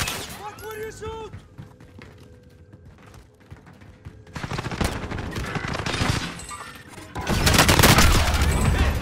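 Gunfire in the video game Call of Duty: Modern Warfare, with bursts of rapid automatic shots growing louder toward the end, mixed with clattering mechanisms and game voice lines.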